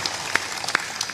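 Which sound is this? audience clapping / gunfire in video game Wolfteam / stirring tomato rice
audience clapping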